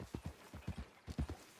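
Horse hooves clip-clop steadily and close in Red Dead Redemption 2, a quick uneven rhythm of soft thuds on the ground, alone and fairly quiet.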